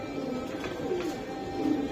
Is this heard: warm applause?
no